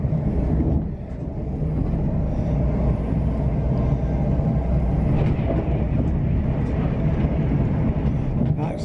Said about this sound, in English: That's the coloured Pendolino.